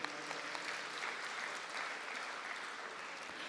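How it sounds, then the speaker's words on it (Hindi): A seated indoor audience at a spiritual gathering claps steadily, a dense, even wash of applause at moderate distance that holds for the full stretch without pause. "इनके लिए खूब तालियां बजाओ"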